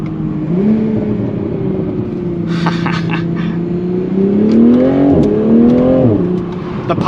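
MK5 Toyota Supra pulling hard, a loud, close engine drone that climbs in pitch through the gears, with a brief rev break and a few crackling exhaust pops riding over the top.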